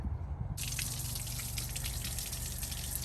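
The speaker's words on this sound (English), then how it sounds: "We're going to turn the water on" Water suddenly starts flowing from a hose with a steady hiss and splatter while flushing an outboard motor, continuing evenly and close by, with no talking.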